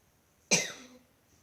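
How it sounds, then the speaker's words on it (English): A single deliberate cough from a patient at the bedside during a respiratory assessment, one sharp close burst tapering off within half a second in a quiet room. "And on this last breath, go ahead and cough."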